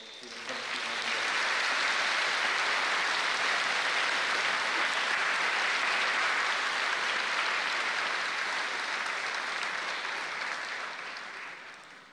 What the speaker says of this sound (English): Graduates, please join me in a round of applause to thank all those who have helped you along the way.